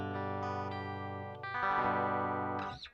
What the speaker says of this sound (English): Playing through a jazz chorus amp right now with a built-in chorus